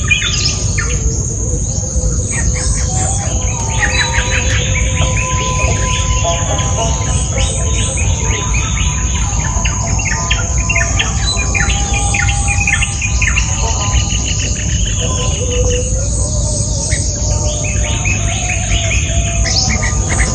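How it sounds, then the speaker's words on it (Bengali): Birds chirp and twitter continuously at an eco resort in the Sundarbans, Khulna, layered over a steady high insect and cricket drone, with several calls near and others farther off. "আপনার ঘুম ভাঙে পাখির কিচিরমিচির ডাকে"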